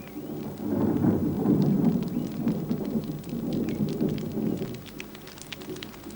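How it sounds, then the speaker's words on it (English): Rain begins falling on dry soil, a patter of scattered drops over a deep rolling rumble of thunder that swells and fades through the stretch. "A few drops of rain start to fall on the dry soil."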